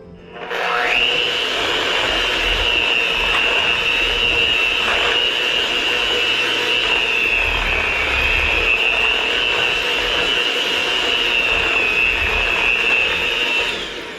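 Electric mixer whirring steadily through sweet potato pie filling with cinnamon and nutmeg, a loud, even motor whine starting abruptly and running without pause before cutting off.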